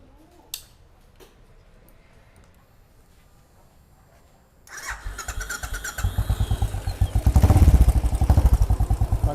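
An engine cranks on a weak battery: after a quiet stretch with a faint click, a rapid labored churning starts and grows louder and steadier, close and alone.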